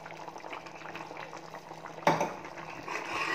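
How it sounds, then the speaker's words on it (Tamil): A pot of butter beans curry (kulambu) bubbles in a soft, steady boil, with a sudden brief clatter partway through and a slightly louder simmer afterward. "குழம்பு நல்லா கொதி வந்துருச்சுங்க"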